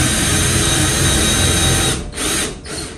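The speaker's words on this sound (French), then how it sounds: "En attendant, papa, je te laisse percer." A power drill boring a pilot hole into a ceiling to fix gymnastics rings: a loud, close, continuous high whine that holds steady, then briefly cuts out twice near the end.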